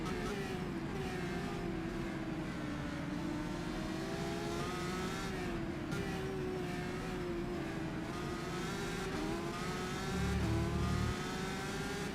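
Formula 3 race car in rFactor 2 at Silverstone, onboard engine wailing at high revs with pitch rising and dropping through gear changes and a corner, with a brief low thump near the end and no talk.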